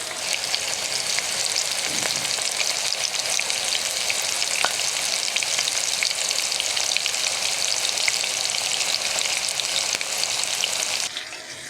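Stuffed bitter gourd frying in oil in a pan, a continuous close sizzle with small crackles and a brief clink near the start, steady throughout and ending abruptly.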